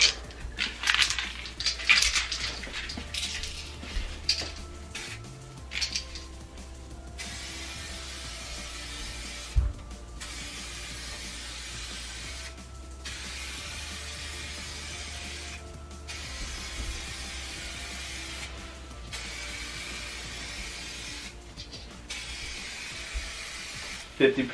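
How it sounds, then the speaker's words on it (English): An aerosol can of clear coat hisses out in long, steady sprays onto a car bumper, separated by short breaks, with rattling and clicking handling noises at the start. "with clear coat, you want to spray it as uniformly as possible."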